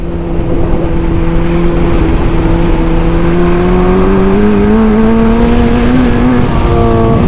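A motorcycle engine in fourth gear at speed, with a fault that makes it cut out, drones loudly and steadily, its pitch slowly climbing as it revs.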